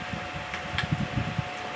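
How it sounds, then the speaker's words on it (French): A small repaired electric fan runs with a steady, even whir and a low hum, with faint light rattling and ticks close by. "Ventilateur bien marché là, dans le moment."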